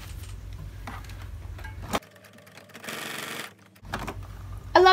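A sewing machine stitches fabric pieces in a continuous chain, its busy mechanical run breaking off briefly, then starting again in a short burst before a faint click at the end.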